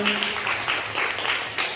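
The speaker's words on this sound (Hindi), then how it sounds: "इसके लिए भी जोरदार ताली हो जाए।" Audience applause at an RCM business seminar in a hall, a dense steady clatter of many hands clapping throughout, with faint voices mixed into the crowd noise.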